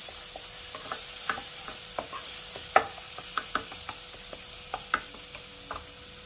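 A dal mixture with sugar is stir-fried in a pan for aloo dal, with soft sizzling underneath and a string of irregular spoon scrapes and taps against the pan, close by, with no talking.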